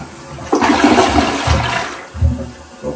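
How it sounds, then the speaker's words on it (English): A toilet flushes close by after being unclogged, a loud rushing gush of water swirling and draining, then easing into gurgles and refill noise. "I'm gonna flush it and see what happens."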